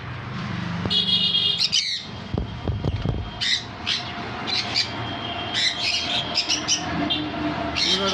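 Pet birds including blue and yellow sided conures in a bird shop, giving harsh squawks and chirps in bursts, loud and close, over a background of traffic rumble and a few knocks.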